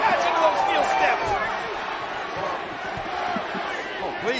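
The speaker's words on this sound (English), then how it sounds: "I think the crowd is trying to start a May 19th chant." Wrestling arena crowd at a Kane versus Rob Conway match beginning a chant, a loud, dense roar of many voices with rhythmic shouting rising under excited commentary.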